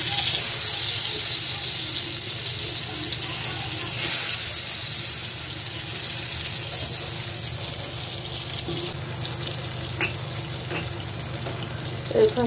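Eggplant slices fry in hot oil in a pan, a steady loud hiss and crackle running throughout, with a few faint clinks near the end.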